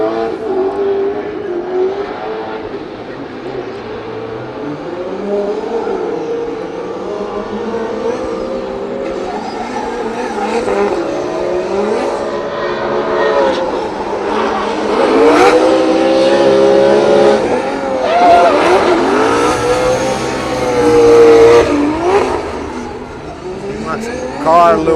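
A drift car on a solo practice run at a Drift Masters 2026 round in Finland, its engine revving and rising in pitch as it accelerates and swings through corners. The car stays loud throughout, under steady commentary.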